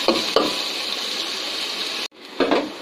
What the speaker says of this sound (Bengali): তো এখানে ফ্রাই হয়ে আসছে, আর একটুখানি হবে, তারপর আমি শাকগুলো দিয়ে দিব।